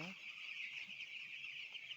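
Chickens at a poultry farm, a faint, continuous high-pitched chorus of chick peeping with an occasional low cluck, steady and distant-sounding.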